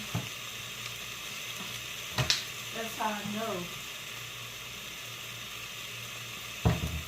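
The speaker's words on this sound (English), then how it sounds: "These about done. They stop sizzling. And the sizzling calm down." Tuna steaks sizzle steadily in a hot pan, with a short spoken remark and a couple of sharp utensil clanks.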